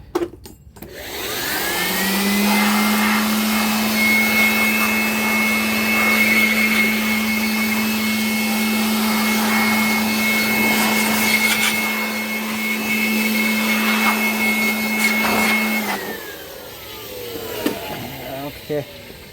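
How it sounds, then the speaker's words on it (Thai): An air blower roars steadily while cleaning the air-conditioner condenser of a Mercedes-Benz W202, a loud continuous rushing whine with a high tonal edge that holds for about fourteen seconds and then winds down. "อันนี้ก็เป่าทำความสะอาดแล้วครับ"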